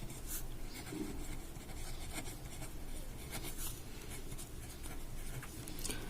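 Pen or chalk writing numbers by hand during a Class 5 maths lesson on large numbers, a steady scratchy stroking that runs continuously for the whole stretch with no voice over it.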